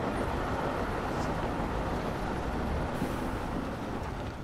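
A train rolls past in the Planet Coaster game, a steady broadband rumble and rush that holds throughout, close and continuous with no talking.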